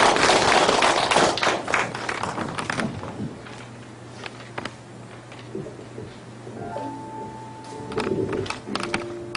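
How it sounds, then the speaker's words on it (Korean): Audience applause greets a speaker at a Korean literary lecture event, a loud burst of clapping at the start that thins out to scattered claps, with a faint tone lingering near the end. "박수로 맞이해 주시죠"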